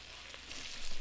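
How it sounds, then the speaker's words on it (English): Shrimp sizzling in a hot pan with browned garlic and butter, a steady loud frying hiss that swells near the end, close and without talk. "When the garlic starts to turn brown, it's time to add your shrimps."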